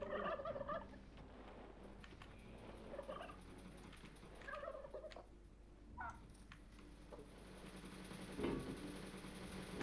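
A turkey in Dungeons 3 gobbles in several short bursts over faint game background sounds, fairly quiet and without speech.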